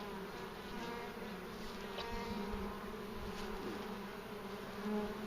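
A steady, soft buzzing of many honeybees at a top-bar hive fills the air, a constant close-up drone with occasional louder passes.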